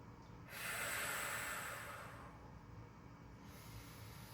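One deep inhale, a soft airy breath drawn in over about two seconds and then fading, taken during a pregnancy abdominal control exercise against a wall, faint and close with no talk.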